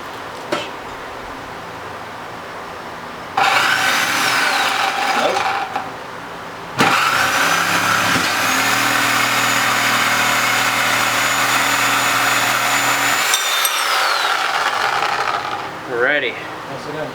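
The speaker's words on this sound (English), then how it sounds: "I'm going to go ahead and use the Sawzall and just cut right through, straight as I can." Sawzall reciprocating saw cutting through a metal suspension arm for a homemade go-kart. Loud, sustained buzzing bursts run with a few pauses and rise and fall in pitch as the cut loads and unloads, close to the listener.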